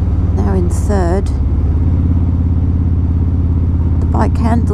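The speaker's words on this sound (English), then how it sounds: "getting the bike around these pretty tight bends" A motorcycle engine drones loud and steady close by in low gears on tight bends of a New Zealand highway, low rumbling throughout, with someone talking over it at the start and end.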